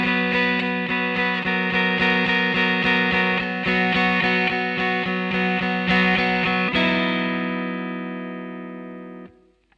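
Electric guitar playing the chorus B riff of a song, rapid repeated picked notes over ringing chords in a steady rhythm, ending on a sustained chord that fades out, with no talking.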